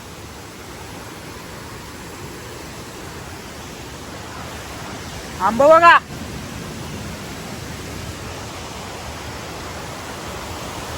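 A river runs fast through a village near Karjuve, Sangameshwar. Its steady, loud, broadband rushing roar fills the whole clip, and a voice speaks briefly in the middle.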